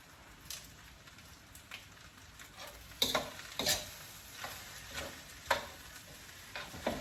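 Chicken fried rice with scallions stir-fried in a pan, a soft steady sizzle broken by sharp scraping clatters of a utensil against the pan at irregular intervals, close and clear with no voices.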